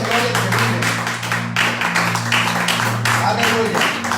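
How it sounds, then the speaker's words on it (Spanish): A church congregation claps during a worship service, giving loud, uneven bursts of hand claps over sustained keyboard chords, with voices mixed in. "Denle un fuerte aplauso a Dios."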